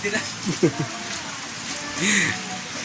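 Rain falling in Samar, Philippines, a steady close hiss of drops on surfaces, with people talking nearby over it.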